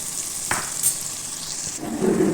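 Two medium onions, finely chopped, drop into hot butter and oil and fry with a steady close sizzle, one clatter as they land, and a brief stir near the end.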